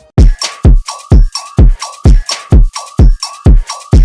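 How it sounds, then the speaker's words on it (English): Phonk drum loop before the drop, loud punchy kicks with sharp snare and cowbell-like tonal hits repeating in a fast steady pattern, up front and alone. "These are my drums before the drop."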